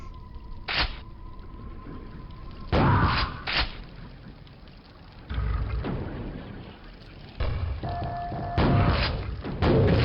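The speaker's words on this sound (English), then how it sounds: "Save our ammo by pistol whipping." Pistol-whipping melee blows land in the Quake VR video game as several heavy, separate thuds and impacts spaced a second or two apart, with lighter clatter and game ambience between them.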